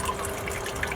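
Water and dirt rush through a GOLDROP sluice in a steady, close, full wash of splashing and trickling that never lets up over the brief moment.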